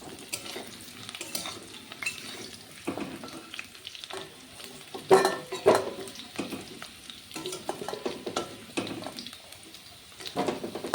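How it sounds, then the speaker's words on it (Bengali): Potatoes frying in oil, heard as a soft, steady sizzle. Scattered clinks and scrapes of a spatula against the pan come through, louder in a brief cluster midway, with no voices. "আলুগুলো ভেজে নিয়েছি, নামিয়ে নেব এখন।"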